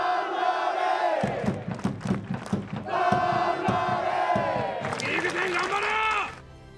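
A large crowd of Kashima football supporters chants and cheers loudly in rhythmic bursts at a Levain Cup match against Hachinohe, with rising shouts and clapping beats, voices swelling together.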